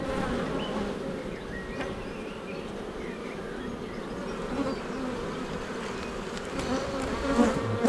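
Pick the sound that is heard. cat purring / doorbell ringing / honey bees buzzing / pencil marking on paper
honey bees buzzing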